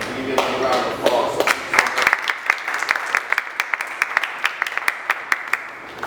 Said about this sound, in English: So I personally want to thank you and give you a round of applause.